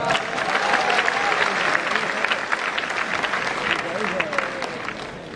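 Loud, enthusiastic audience applause at an AWPL motivational talk by a royal ambassador, a dense crowd clapping that holds steady for over five seconds, with faint voices mixed in.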